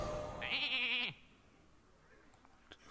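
A single cartoonish sheep bleat from a Hearthstone polymorph effect, loud and wavering for about a second, then fading into quiet game sounds.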